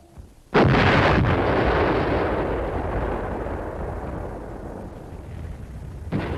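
A single heavy artillery shot fired on enemy positions in the Korean War booms close and loud, its roar slowly rolling away over several seconds before another blast begins at the end.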